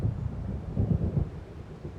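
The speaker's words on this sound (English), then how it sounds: "It seems there's a storm coming." Thunder rolls from an approaching storm in the video game Alan Wake, a deep, rumbling swell of low booms with wind-like noise, building in the middle then easing off.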